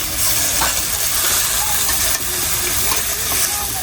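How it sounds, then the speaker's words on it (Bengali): Water lily stems fry in a pan with salt, chilli powder and turmeric, a loud continuous hiss and sizzle without any voices. "এখন মশলার সাথে ভালো করে একটু ভাজা নিলাম শাপলার ডাটাগুলা"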